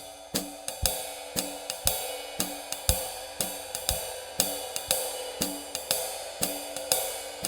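A jazz ride cymbal rings in a steady pattern with accents on counts 1 and 3, giving evenly spaced strong strikes that stand alone and close.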